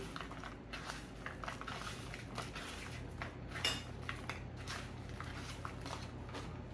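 Walnut topping for homemade pizza is mixed in a bowl, producing a soft, continuous scraping and clinking of a utensil against the bowl, quiet and close.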